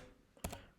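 A single Enter key press on a MacBook Air M1 keyboard makes a short, close double click against a quiet background, with no talking.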